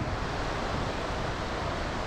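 Sea surf at Larnaca beach in Cyprus, heard close by as a steady, dense wash of breaking water mixed with wind buffeting the microphone, with no voices.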